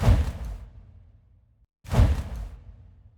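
Two strong designed whooshes for the Demon Hunter's vault ability in Diablo 3, each a heavy rushing burst with a low thump that fades out, separated by a short gap of silence.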